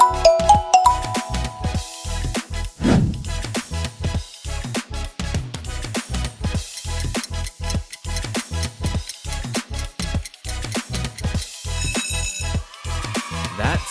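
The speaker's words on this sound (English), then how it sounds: "That subtle chime, totally Microsoft." Microsoft phone ringtone chime, a bright electronic melody of bell-like dings and tinkling tones in a quick, regular rhythm, loud and continuous with no talking.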